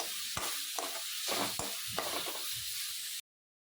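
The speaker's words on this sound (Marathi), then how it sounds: "कांद्याची पेस्ट ॲड करणार आहे सर्व मिश्रण छान परतून घेऊया" Onion paste and spices sauté in hot oil for a Solapur-style kheema unde, with a steady close sizzle broken by repeated stirring scrapes, with no voices.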